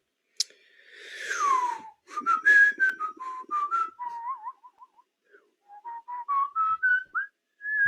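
A person whistles a wandering tune in a quiet room, a string of short pitched phrases with little breathy gaps, loud and close, with no talking over it.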